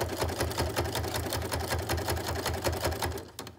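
A sewing machine runs a decorative stitch along bias binding for a mitred corner, a fast steady needle rattle at close range that stops abruptly near the end with a soft click.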